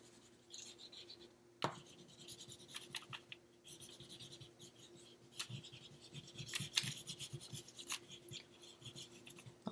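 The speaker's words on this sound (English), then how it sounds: "I'm going to color in these rocks with gray, with the brown." Crayon colouring on paper, a busy run of scratchy rubbing strokes with irregular rhythm, close and fairly quiet, with a few sharper scrapes and no talking.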